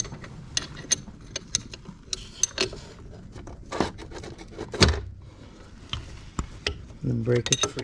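A wrench works on the bolt of the main brush motor on a Bitimec 626 EZ, giving scattered sharp metallic clicks and ratcheting taps, with a louder crack when the bolt breaks free and then handling rattles.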